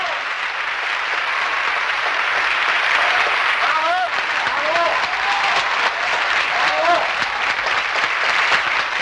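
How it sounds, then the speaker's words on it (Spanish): Sustained ovation from a theatre audience in an archival recording, dense continuous clapping filling the whole stretch at steady loudness, with a narrator's voice speaking over it in places. "el público presente en las salas premia la acción de los actores con una ovación cerrada"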